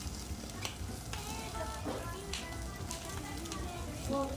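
Garlic and salt sizzling on a grill at an Asakusabashi lamb barbecue restaurant, a steady close frying hiss running throughout with small clinks, while diners chat over it.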